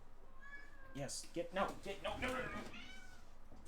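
A pet cat meows several times in a row, fairly close and clear, while a person talks briefly over it.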